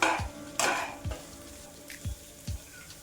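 Ground roasted-peanut paste stirred into potatoes in a pan for a fasting-style dish, with a few scraping strokes and soft low knocks of the spoon against the pan, near and fairly quiet.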